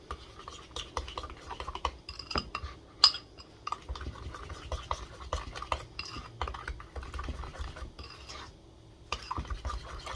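A utensil stirs a spicy rib seasoning mixture with red pepper flakes in a bowl, giving irregular clicks and scrapes over about ten seconds, close and fairly quiet, with no talking.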